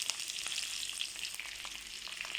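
Ginger and garlic sizzle in hot butter in a pan, a steady, dense, close frying hiss with faint crackles throughout and no voices.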